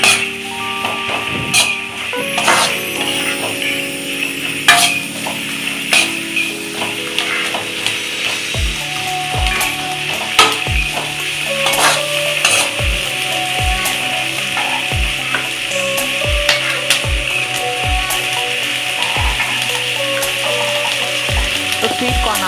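Vegetables for red sauce pasta sizzle and fry steadily in a pan, with a run of sharp, regular knocks as a spoon stirs and taps against the pan.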